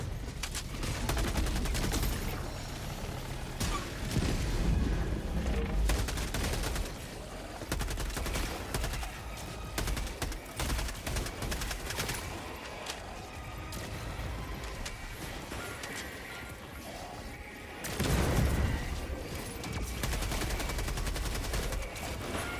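Sustained gunfire and bursts from Helldivers 2, with heavy rattling volleys and booming impacts running nearly throughout, swelling into a louder blast near the end.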